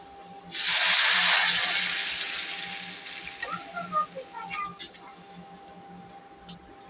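Lentils hit hot oil with fried garlic and onion, setting off a sudden loud sizzle that slowly dies down into softer crackling, with a few light clinks near the end.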